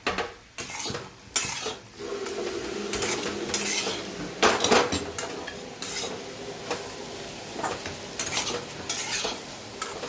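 Spoon stirring okra sabzi in a metal pan, clattering and scraping against the pan with a soft sizzle underneath, close and fairly loud in bursts, no voices.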